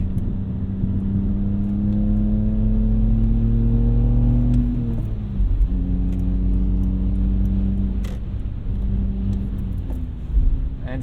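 A 2004 BMW E46 330xi with its muffler deleted drones steadily at cruise, the engine note rising as it pulls, then dipping briefly around a shift before settling back into a loud, constant rumble from inside the cabin.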